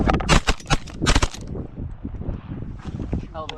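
Shotgun blasts ring out during a snowy Wisconsin goose hunt, several rapid, loud, close reports in the first second and a half, followed by wind and raised voices.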